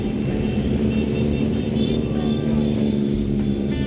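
Motorbikes on a charity toy run in Stoke-on-Trent rev their engines as they come round a corner, a dense continuous roar and rumble of several machines at once, loud and close, with no break in the noise.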